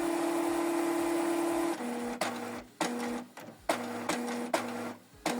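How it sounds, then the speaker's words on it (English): Canon PIXMA TS7550i all-in-one printer running its ink holder into position, a steady mechanical whir broken by several short clicks and stops as the carriage shifts, close and fairly quiet with no talk. "if you open up the printer, the ink holder will move from this side and it will position itself on this side"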